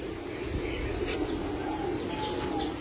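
Makra pigeons coo softly at a moderate distance, with a few chirps over a steady background hum and no talk.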